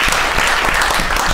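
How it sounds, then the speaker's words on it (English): An audience at a student union question time event breaks into loud, dense applause, sustained clapping from many hands close by with no voices over it. "Give a round of applause."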